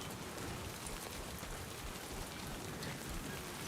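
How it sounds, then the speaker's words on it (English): Timefall rain in the video game Death Stranding 2 falls as a steady, dense hiss of rain on surfaces, even and unbroken throughout with no voices. "Trying to get out this timefall, man."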